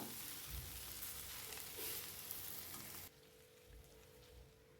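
Thinly sliced okra stir-frying in a hot pan, a steady close sizzle and crackle with occasional stirring scrapes that drops noticeably quieter partway through.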